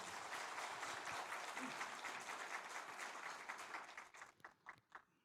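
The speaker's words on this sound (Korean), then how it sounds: "박수 한번 하실까요?" Church congregation gives a sustained round of applause that stays dense and even, then breaks up into a few scattered claps as it dies away.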